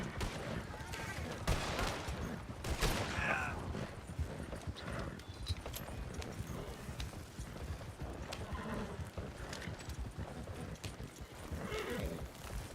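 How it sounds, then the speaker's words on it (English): Horses clip-clopping along in Red Dead Redemption 2, a busy jumble of hoofbeats with occasional whinnies and scattered gunfire bursts, a voice talking now and then. "Good God, these horses are slow."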